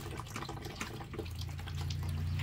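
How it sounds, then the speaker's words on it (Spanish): Water gushes steadily from a hand pump, a continuous rushing and splashing that grows fuller and louder toward the end, with no talking. "pero hay que bombear bastante para que salga"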